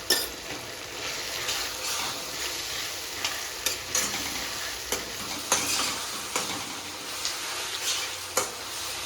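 Red chili powder and kitchen masala are stirred into food frying in a pan, with a steady low sizzle and repeated sharp clinks and scrapes of the spoon against the pan; no voices.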